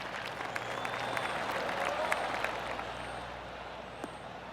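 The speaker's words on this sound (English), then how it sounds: "I can hear the golf claps around the course." Golf spectators in the video game PGA Tour 2K25 give scattered, polite claps around the course, distant and overlapping above a soft crowd murmur.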